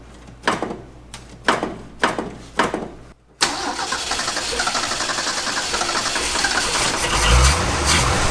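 A 1965 Ford F250 service truck, parked for 17 years, cranks through a few clicking starter turns, then catches and settles into a steady, loud, close idle that runs to the end without speech.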